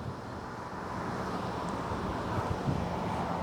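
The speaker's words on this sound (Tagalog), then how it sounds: "lakas ng hangin." Strong wind on an outdoor rooftop in the Middle East where laundry hangs drying, a steady, loud broadband rush of gusting air buffeting the microphone throughout, with a faint distant hum beneath it and no talking.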